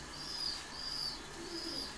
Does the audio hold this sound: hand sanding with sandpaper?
no